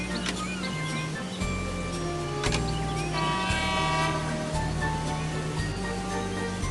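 Toy train from a Thomas and Friends Magic Track video game, with a steady rumbling engine, repeated horn and whistle tones, and bright game music throughout.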